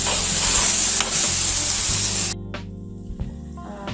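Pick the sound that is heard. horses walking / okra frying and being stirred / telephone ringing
okra frying and being stirred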